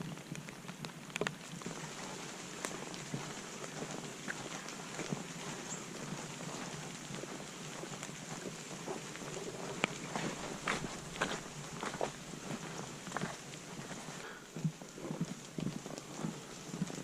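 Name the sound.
rain falling during a canoe portage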